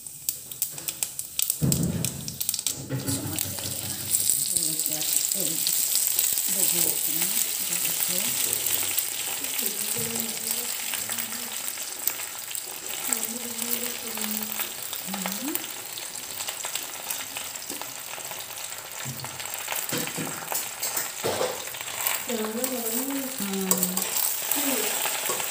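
Panch phoron spices sizzle in hot oil for a jujube pickle, a loud, continuous crackling fry close by with brief stirring and light clinks, while a voice talks over it at times.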